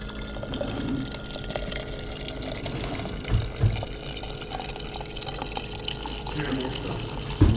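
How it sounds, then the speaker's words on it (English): Hot water poured into a jar holding a Borg valve stem stabilizer to soften it, a close, continuous splashing fill with a few louder bumps. "I'm just going to put it in a jar and put some of this hot water in there"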